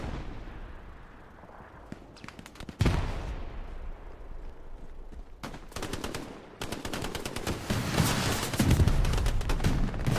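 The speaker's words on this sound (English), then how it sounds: "Rockets are just flying in from everywhere" A Hell Let Loose battle at Carentan: bursts of rapid machine-gun fire and booming rocket explosions, starting sparse and quieter, then turning into heavy, near-continuous loud combat noise.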